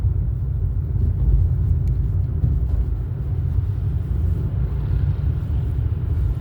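A truck passes outside with a steady low-pitched rumble that holds near and loud throughout, with no voices over it.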